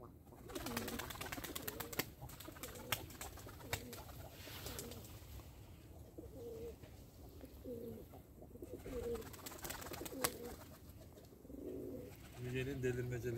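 Turkish tumbler pigeons coo in soft, repeated throaty calls nearby, mixed with rustling, wing flaps and faint chirps, while people talk quietly in the background.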